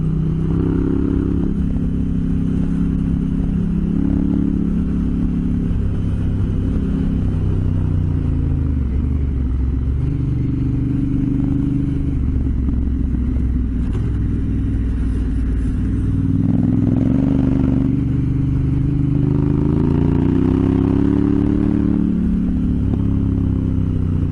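An off-road motorcycle rumbles and drones steadily while riding through the desert, its engine note shifting in pitch as it rises and falls, loud and continuous throughout with no talk.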